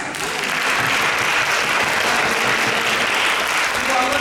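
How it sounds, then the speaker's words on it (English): Audience at an in-person economic justice policy forum applauds steadily, a dense, loud, sustained clapping that fills the room for several seconds without a break. "give yourself a round of applause"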